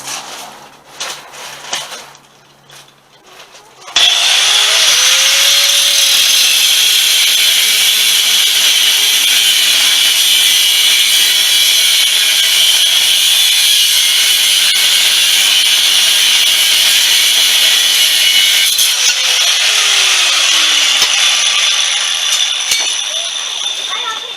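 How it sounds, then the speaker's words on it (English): An angle grinder cuts metal while building a gas-powered ride-on toy, a loud, steady high whine that runs continuously for about twenty seconds after a brief start, with a voice faintly heard before it begins. "So let's get the grinder. We'll get that cut."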